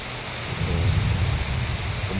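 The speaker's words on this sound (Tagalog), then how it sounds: "Kumukulog." Heavy rain pours steadily while a low thunder rumble rolls underneath, loud and continuous for a couple of seconds with no voices.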